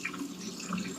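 Water pours steadily from a coffee maker's carafe into a sink, a continuous close splashing rush with no pauses.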